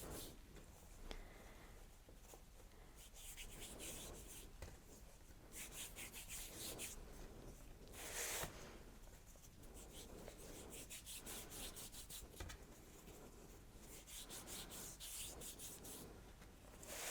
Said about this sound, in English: So just the palm of your hands, rub it all the way round.